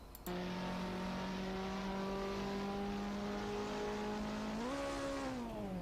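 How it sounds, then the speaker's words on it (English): A VSR Rookie race car engine drones at high, steady revs as the engine blows up, then the pitch jumps up briefly before settling again; loud and continuous with no voices. "Hear those revs? Yep, his engine blew up."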